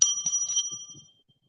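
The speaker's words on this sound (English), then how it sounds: "Have to ring the bell" A small bell, like a bicycle bell, rings in a few quick bright dings that ring out and fade, heard close and alone.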